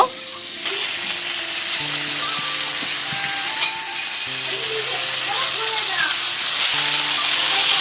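Squeezed, chopped banana stem drops into a hot wok for paratha filling, giving a steady broadband sizzle with scraping stir sounds and occasional clinks; a voice talks over parts of it.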